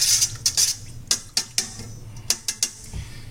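Minced garlic is stirred into a mixture with a spoon, producing a quick series of sharp clinks and scrapes against a bowl, close and clear over quiet background hum.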